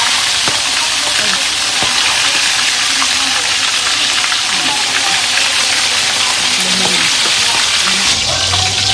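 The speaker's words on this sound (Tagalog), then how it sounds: "Magpipirito tayo ng daing na bangus partner natin dito sa ating swam." Dried milkfish, daing na bangus, fries in hot oil with a loud, dense, unbroken sizzle and hiss close up, with faint voices briefly underneath.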